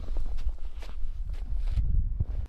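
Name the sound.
footsteps walking in a forest at night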